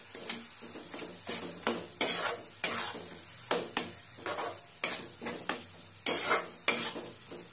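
Food is stirred and mixed with sweet coriander in a pan, giving a steady run of scraping, clinking utensil strokes against the metal over a faint sizzle, with no talk.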